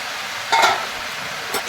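Pumpkin with fish head being stirred in a pan, a soft steady sizzle with a couple of brief scraping strokes of the spoon, close and moderately loud.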